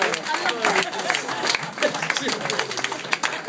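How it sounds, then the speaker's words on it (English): A crowd at a UCMMA 30 mixed martial arts weigh-in applauds steadily for a few seconds, a dense wash of clapping mixed with crowd voices. "Give me a round of applause, guys."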